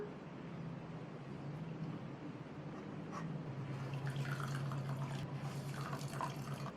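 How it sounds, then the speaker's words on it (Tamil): Quiet trickling and dripping of water squeezed from chenna, with a soft steady patter that grows slightly busier midway; no voices. "இப்போ இதில் உள்ள தண்ணியை பிழிஞ்சிடலாம்."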